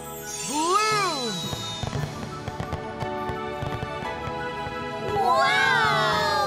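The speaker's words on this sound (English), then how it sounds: "Incredible fireworks!" Cartoon fireworks go off in a magic show, rising whistling rockets followed by a cluster of crackling pops and bursts, then another pair of whistles climbing, loud and bright.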